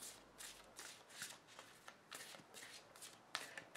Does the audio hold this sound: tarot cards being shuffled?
yes